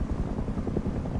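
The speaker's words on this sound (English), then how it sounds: "Go away, helicopter." A helicopter in the video game Rust, a loud low rotor thrum with rapid rhythmic chopping that holds steady and close for the whole moment.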